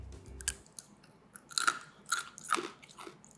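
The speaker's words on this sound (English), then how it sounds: "Should we bite the crispy corner?" Crunchy bites and chewing on the crispy corner of a marshmallow Oreo banana bread cookie, a few sharp crackling crunches close to the mic, spaced irregularly with quiet gaps between them and no voices.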